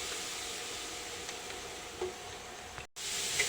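Cabbage and carrots sizzle softly in hot oil while they are stirred, a faint, even hiss broken by a few light scrapes and a short silence near the end.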